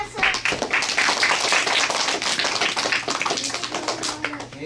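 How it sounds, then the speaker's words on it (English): A group at a taekwondo exam on Brighton Beach claps hands in quick, sharp, uneven bursts, close and fairly loud. Voices can be heard over the clapping. "Make a big hand clap!"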